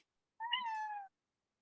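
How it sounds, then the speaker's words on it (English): A single cat meow, clear and fairly close, lasting under a second with a falling, tonal pitch, heard alone in an otherwise quiet moment during a poker study session. "who brought a cat to the study session?"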